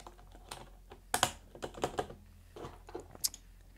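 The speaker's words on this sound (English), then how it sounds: "So just put it back on the stem, and then drop the keycap right back on." A Topre keyboard spacebar keycap is pressed back onto its stem, giving a scatter of close, sharp plastic clicks and taps, a denser cluster around the middle, in a quiet room with no speech.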